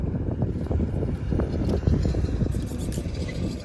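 A Vagrant micro buggy's small engine runs on its own with a stuck throttle, a close, steady, rough low rumble with broadband wind-like noise and no letup.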